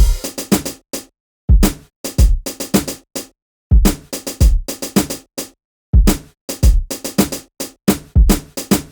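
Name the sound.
quantized sampled drum beat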